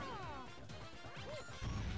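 The Whomp King boss in Super Mario Galaxy 2 slams down on the player with a heavy crash near the end, following a stretch of busy game music and effects.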